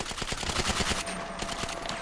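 Automatic gunfire during a GTA 5 deathmatch rattles in quick, loud bursts of rapid shots, close and sustained with little pause.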